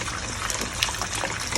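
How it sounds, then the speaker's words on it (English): A blended peanut and oatmeal mixture pours into a pot for Jamaican-style peanut porridge, a continuous close gushing, splashing liquid sound with no talking. "So we're about to pour everything in the pot."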